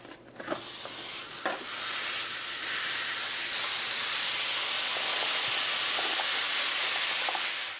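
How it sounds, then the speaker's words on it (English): Ground beef, onions and peppers browning in a pan for sloppy joes give a steady, close, dense sizzle with a few soft stirring scrapes near the start, and no voices. "brown your ground beef and your onions and peppers"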